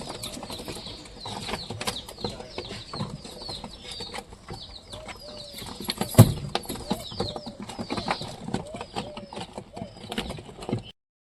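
Pigeons feed on wheat grain, making soft repeated coos amid pecking clicks and occasional wing flaps. A louder flutter comes midway, with faint voices in the background.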